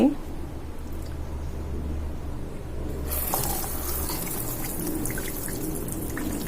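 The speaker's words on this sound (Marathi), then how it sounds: "आता मी इथे आंबे स्वच्छ धुवून घेते" Devgad Hapus mangoes washed under running tap water: a steady stream splashes and trickles close by, growing brighter about halfway through, while someone speaks over it.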